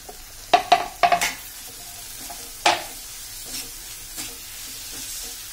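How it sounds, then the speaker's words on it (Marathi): Chopped capsicum tipped into a hot pan for a Maharashtrian bell-pepper bhaji: a quick cluster of sharp spatula knocks and clatters, a lone knock after, then faint sizzling and light scraping, close and with no talk. "आपण आपली ढोबळी मिरची जी चिरून ठेवलेली आहे ती आपण त्याच्यात ऍड करणार आहोत"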